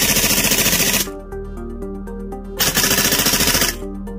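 A Tokyo Marui MTR-16 gas blowback airsoft rifle fires in two rapid full-auto bursts, loud and close, with a short mechanical clatter and hiss between them.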